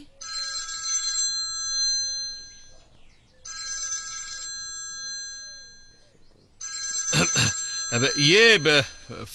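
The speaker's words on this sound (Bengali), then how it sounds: "ফোন বাজছে যে।" A telephone rings in three long electronic bursts separated by short pauses, fairly loud and close, with voices talking over the final ring.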